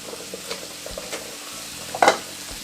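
Salmon pan-frying for a Sunday dinner, with a soft continuous sizzle, light clinks and scrapes, and one louder sharp spatter near the end, no voices.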